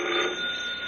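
An old-fashioned telephone rings a single time from a rural setting, a steady bright electric bell tone lasting about a second, loud and alone with no voices over it.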